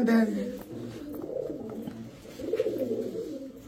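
Pigeons, including racer, teddy and highflyer tumbler breeds, coo softly and repeatedly, low throaty calls rising and falling close by, with a little background noise.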